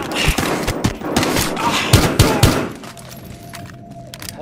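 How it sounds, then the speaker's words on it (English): Gunfire in Battlefield Hardline rings out as a rapid run of sharp shots over about two and a half seconds, then breaks off into a quieter, humming room tone. "Reporting shots fired"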